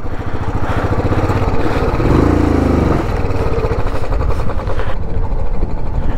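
A Royal Enfield Interceptor motorcycle riding through sand, its loud engine droning steadily up close and rising briefly in revs midway, with constant rumble and no voices.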